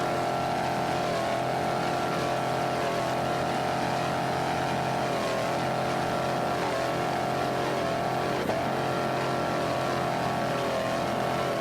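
Super V class offshore racing powerboat engines roar loud and steady through a turn at a Daytona race, a dense continuous drone with shifting pitch and no talk.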